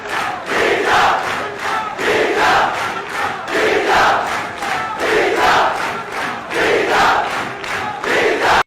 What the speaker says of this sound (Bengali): তার এই বিজয়ের পর হিজাব হিজাব স্লোগানে প্রকম্পিত হয় ঢাকা বিশ্ববিদ্যালয়